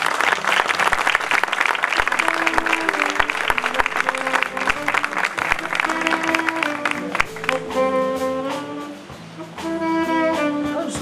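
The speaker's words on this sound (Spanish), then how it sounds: "Un aplauso para él." Audience applause at a literary award ceremony in Castellón, a dense, steady clapping that fills the whole stretch, with musical tones rising under it toward the end.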